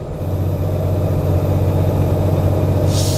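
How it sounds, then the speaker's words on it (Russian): A Ural Next truck tractor's engine brake produces a loud, constant, low diesel drone, heard close with no voices over it. "Так, пробуем моторный тормоз."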